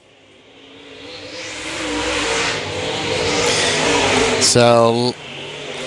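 Modified race cars roar past in a dirt-track heat race, a loud sustained engine drone building and surging as the field passes close, with a sharp revving car whine near the end and an announcer talking over it.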